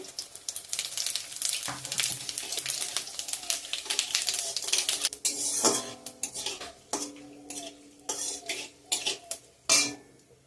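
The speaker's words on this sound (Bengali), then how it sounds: "তেল গরম হয়ে গেছে তেজপাতা শুকনো লঙ্কা দিয়ে দিলাম সাদা জিরে" Bay leaf, dried red chilli and cumin seeds crackle and spit in hot oil, mixed with busy metallic clatter of a spoon on the pan; the sizzle is dense at first, then breaks into sharper scattered pops and knocks.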